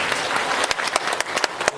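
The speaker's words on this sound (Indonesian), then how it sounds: "Tepuk tangan dong" Applause from an audience at a motivational growth-mindset seminar, a dense wash of clapping with several sharp, distinct claps popping out near the mic, lasting under two seconds.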